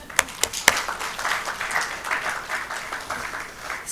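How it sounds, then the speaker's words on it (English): Audience applause at an International Women's Day gathering begins with a few sharp, separate claps, then swells into a steady, moderately distant round of clapping from the room. "the men in the room should give a big loud of applause to that."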